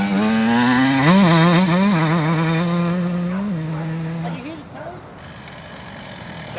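A Beta 125 two-stroke dirt bike with a race-spec reed valve revs hard through rising and falling pitch sweeps, loud and close, then drops away near the end.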